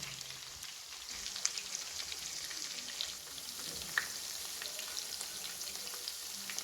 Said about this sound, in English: Now we have fried one side of our fish, and we have inverted the next side